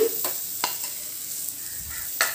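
Paneer and vegetables roast in a pan, a soft steady sizzle broken by a few sharp spatula scrapes and knocks against the pan, close by, with no talking.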